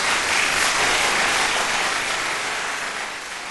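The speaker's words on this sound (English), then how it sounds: "I'm going to give him a big round of applause." Loud, dense round of applause from many people, filling the space evenly from start to finish and easing only slightly toward the end, with no voices over it.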